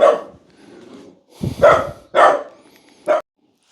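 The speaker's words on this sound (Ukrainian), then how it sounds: "Хватить гавкать!" A dog close by lets out several loud, sharp barks in a quick irregular series, separated by brief quiet pauses.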